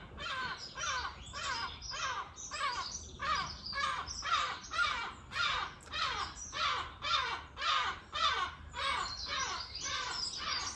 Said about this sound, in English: We have a ornithological fan, apparently. I'm not sure if that's a gull.